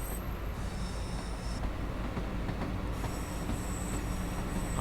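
A commuter train on the Glasgow Cathcart Circle Line in Train Sim World 3 rolls along steadily, with a constant low rumble of wheels on track, faint rail squeal and quiet high whistles, no talking.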